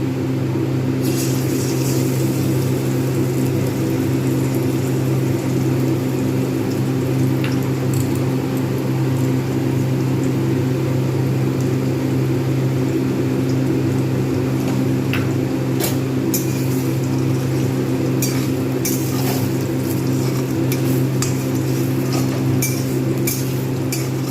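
Egg frying in hot soybean oil in a wok while making Kolkata-style egg chowmein, a steady, fairly loud sizzle that runs unbroken throughout with no talking.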